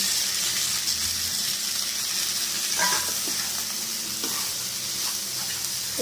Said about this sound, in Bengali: কষিয়ে নিয়েছি, এবার এর মধ্যে ভাজা সবজিগুলো দিয়ে দেবো।